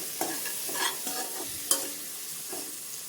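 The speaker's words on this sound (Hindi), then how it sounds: "अब इसको धीमी आंच पे 1 से 2 मिनट चलाते हुए भून लेंगे" Kashmiri chili powder, turmeric and salt roasting on low flame, with a spoon scraping and stirring in a few distinct strokes over a soft, steady sizzle, close and fairly quiet.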